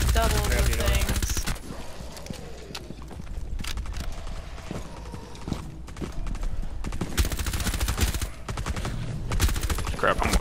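Rapid gunfire bursts in Rainbow Six Siege Outbreak, a video game, crackle through a dense, busy mix of game noise, with short pauses between volleys.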